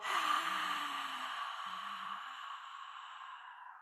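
Yogic breathing through a narrowed throat gives a soft, steady hiss, close and fairly loud at first, then slowly fading over several seconds, with no voice.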